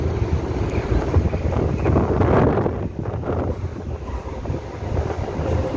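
A loud, broadband rumble of a departing train, with heavy wind buffeting the microphone throughout and no talking.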